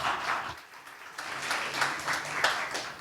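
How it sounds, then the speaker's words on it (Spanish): Applause from a business-conference audience greeting presenters from SAP consultancy Seidor, a steady wash of clapping for about three seconds with a brief dip early on, moderately loud in a hall. "Fuerte el aplauso para ellos."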